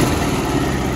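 A Ural motorcycle engine with electronic ignition runs steadily, a close, even, buzzing idle rumble that holds constant, with no talking over it.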